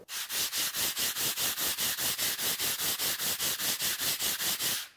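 A whetstone is rubbed flat against sandpaper in steady diagonal back-and-forth strokes, a close, rhythmic gritty scraping repeating about four times per second.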